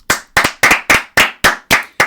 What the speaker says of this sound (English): Let's clap it up really quick.